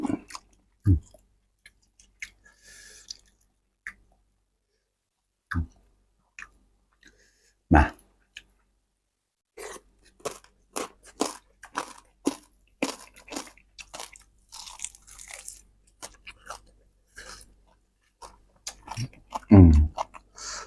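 Crispy fried pork tail crunched between the teeth, giving sparse sharp bites early on that turn into a busy run of close, wet, crackly chewing, with a loud crunch near the end.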